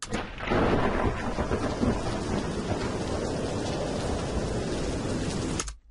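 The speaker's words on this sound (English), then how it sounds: "I really want that rain to start right after the thunder strike" Thunderstorm built from a thunder strike, wind and rain: a loud crack opens into dense, continuous rain and wind noise that holds steady before cutting off abruptly near the end.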